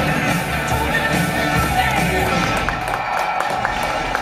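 A crowded CES 2010 presentation audience claps and cheers after an Iron Man demo on an Nvidia Tegra tablet, a steady dense wash of clapping with scattered shouts that fills the whole stretch.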